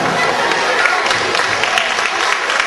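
Audience applause before a children's poem recital at a 23 April celebration in Roubaix-Lille, dense continuous clapping from a crowd that stays loud and even throughout.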